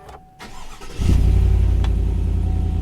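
A 2020 Chevy Black Widow's engine cranks and fires up, then settles into a deep, steady rumble from a loud custom exhaust, heard up close with no talking.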